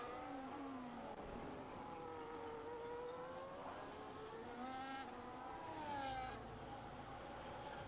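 A Ferrari race car at Monza in a racing video game, its engine whining continuously and loudly, pitch rising and falling through gear changes, with brief higher-pitched bursts from other cars passing.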